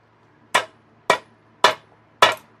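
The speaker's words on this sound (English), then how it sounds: "I'm using a hammer because that's what I got." Four sharp metal hammer blows, evenly spaced about half a second apart, drive a part into place in a modest home workshop without specialist tools; each strike rings briefly and loudly with no talking.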